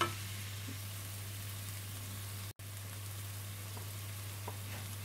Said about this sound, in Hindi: अब मैं इसमें ये प्याज डाल रही हूँ, इसको थोड़ी देर फ्राई करूंगी